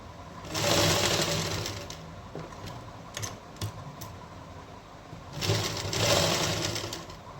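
Sewing machine stitching piping onto a garment, two bursts of fast steady needle whirring with a quieter pause between them, close and unaccompanied by talk.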